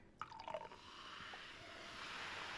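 A homemade volcano erupts in a kitchen-table experiment. A few wet squishy pops give way to a steady fizzing, foaming hiss that grows slightly louder.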